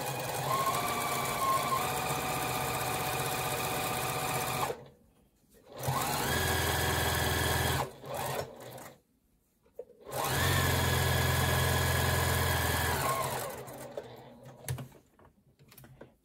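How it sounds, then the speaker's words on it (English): A sewing machine stitching binding onto a small quilt runs in three steady whirring stretches, broken by short silent pauses, loud and close with no talk. "start from the very top and sew down."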